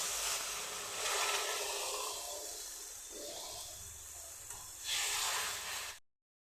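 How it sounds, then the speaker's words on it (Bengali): Water tipped into hot frying spice masala for a Bengali cauliflower and egg dhoka curry, giving a loud burst of hissing sizzle that eases off, then a second strong surge near the end. "আমি মশলার বাটির মধ্যে জল নিয়েছি, এই জলটা দিয়ে দিচ্ছি।"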